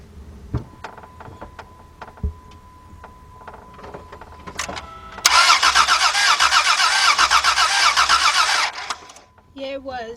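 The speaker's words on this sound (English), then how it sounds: "let's crank this over to definitely get a good listen for this" A 2003 Dodge Grand Caravan with the 3.3 engine cranks without starting: a loud, steady rhythmic whir from the starter for several seconds after some quieter handling noises, then it stops and a voice speaks.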